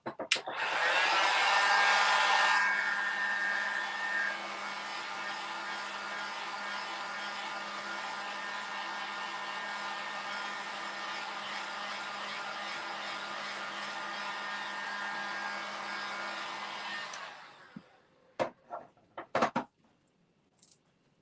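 A hair dryer blowing on a painted door hanger, a loud steady close whoosh that runs for about seventeen seconds, then cuts off, followed by a few light clicks and taps.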